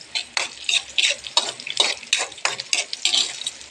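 Kalabasa (squash) being stirred in a frying pan, a spatula scraping in steady repeated strokes about every half second over a light sizzle, close and fairly loud, with no talking.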